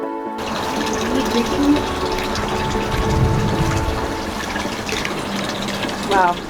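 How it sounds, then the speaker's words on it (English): Pure Alpine mountain stream water gushes and pours steadily up close, like water filling a container, while people talk briefly over it. "Nice, pure mountain stream."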